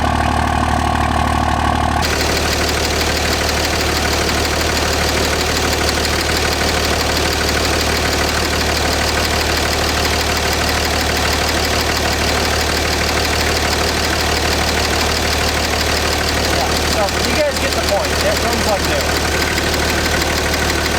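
A hot, fully warmed-up 5.9 Cummins diesel pickup engine of 700+ horsepower idles loudly and steadily up close, a constant low knocking rumble that never changes.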